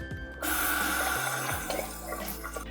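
Water runs from a tap and splashes as a face is rinsed at a sink, a sudden loud gush that stays continuous and close, with uneven splashing and a short break in the flow.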